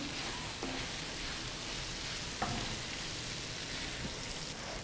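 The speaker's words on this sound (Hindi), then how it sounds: "मसाले डालने के बाद अब मैं इसको एक बार फिर भून लूँगी" Kaleji (liver) fries in spices on a hot tawa with a loud, steady, dense sizzle, broken by a few faint clinks from stirring.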